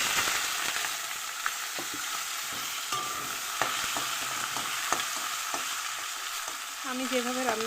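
Chopped onion and bay leaf fry in hot oil with a loud, steady sizzle that runs throughout, dotted with occasional light ticks and scrapes of a stirring utensil.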